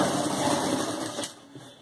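A sewing machine stitches salwar panels together in a continuous, fast mechanical whir that runs close and steady, then slows and trails off near the end.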